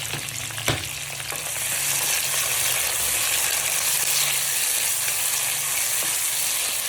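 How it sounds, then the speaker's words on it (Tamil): Onions for mutton biryani sizzle loudly and steadily in a hot pan, with a clink of the ladle near the start and occasional stirring scrapes under the constant frying hiss. "வெங்காயம் இதில் போட்டு நல்லா வதக்கணும் வெங்காயத்தை"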